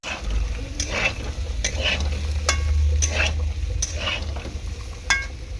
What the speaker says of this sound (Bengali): একটু তেল দিয়ে দিলাম আমি। ভালো করে এরকম কষিয়ে নেব।